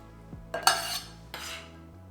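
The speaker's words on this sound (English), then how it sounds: "We're gonna throw it back into the bowl." Chopped shrimp for har gow dumplings is tossed back into a bowl, giving two short clattering scrapes and taps against the dish, close and fairly quiet, with no talking.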